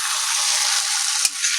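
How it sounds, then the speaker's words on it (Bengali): Fried potatoes and chicken pieces being mixed into coconut masala in a pan give a steady, close hiss of frying, broken once by a single spoon knock, with no voices. "সমস্ত মশলার সাথে চিকেন আর আলুটাকে ভালো মতো করে মিশিয়ে নেব।"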